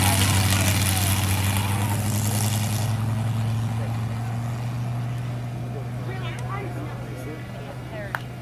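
A 25-horsepower engine on a large remote-control airplane held at takeoff throttle: a steady, droning buzz that fades slightly as the plane pulls away, with someone talking over it.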